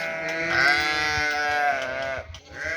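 A sheep, the mother of twins, bleats loudly and close by in one long wavering cry, followed by a shorter second bleat.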